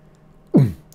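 A single short, low, throaty thump made with the glottis, mimicking a bass drum hit in jaw harp techno, alone in near silence.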